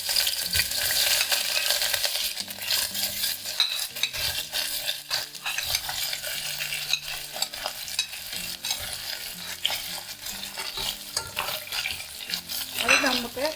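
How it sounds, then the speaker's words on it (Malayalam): Sliced onions, three of them cut lengthwise, sautéed in a pressure cooker on the stove: steady oily sizzling with repeated scraping and stirring of a spoon against the metal pot, close and continuous. "അതിലേക്ക് നമുക്ക് 3 ഉള്ളി നീളത്തിലരിഞ്ഞത് ഇട്ട് കൊടുക്കാം"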